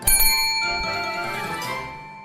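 A bright notification bell dings once with a quick double strike, then its clear metallic tone rings on and slowly fades, loud and alone.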